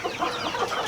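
Brief, soft clucks from a nearby miniature-breeding rooster, murmuring in a quick, uneven rhythm.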